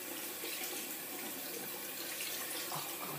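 Hot water runs from a tap over a makeup powder puff in a sink, a steady broadband splashing rush that stays even and close throughout.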